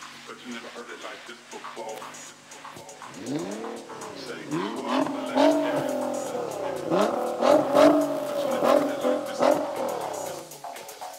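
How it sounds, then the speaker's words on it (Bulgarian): Nissan GT-R engine revving at a rally event finish, with repeated rising and falling throaty revs that grow louder toward the end, while a voice talks over it. "Чудесният гърлен звук от този Nissan GT-R"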